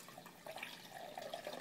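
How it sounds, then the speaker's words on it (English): Apple juice from a centrifugal juicer is poured into a cup, giving a soft, steady liquid trickle and splash that runs for a moment at low level with no talking. "Pour into the same cup here."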